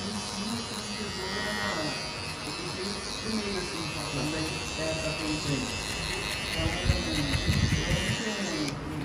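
An electric hair clipper buzzes steadily up close while it trims the sides of a client's hair for a fade cut, and someone talks over it the whole time.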